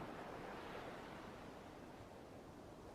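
Soft ocean surf washes steadily at a distance, a broad even hiss that swells slightly early and then settles, quiet and continuous with no voices.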